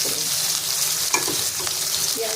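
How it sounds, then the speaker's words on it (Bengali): Cumin seeds tempering in hot oil for an okra and onion curry give a steady close sizzle and crackle, with a few brief stirring clinks, no voices. "জিরে ফোড়নই দিয়ে দিচ্ছি।"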